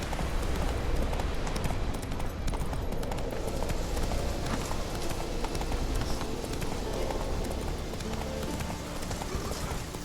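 Roach, Geralt's horse in the video game The Witcher 3, gallops with a steady, dense clip-clop of hooves that runs without a break the whole time, loud and close, over a rumbling backdrop of battle ambience.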